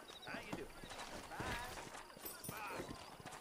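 Horse hooves clip-clop at a steady walking pace in Red Dead Redemption, rhythmic hoof strikes close by with someone speaking over them.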